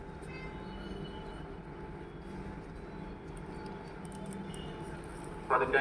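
At Coimbatore Junction station, the Jan Shatabdi Express to Mayiladuthurai gives off a low, steady rumble and hum nearby, with a brief sharper clank at the very end.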